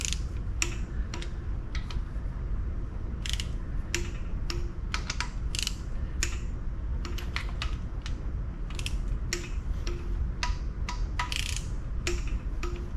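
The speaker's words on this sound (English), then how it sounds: "It's a nice little torque wrench and all, but I'm like, is that really right?" A torque wrench ratchets and clicks as bolts are tightened on a 2000 Suburban 2500, making sharp, close metallic clicks in irregular bursts over a steady low background hum.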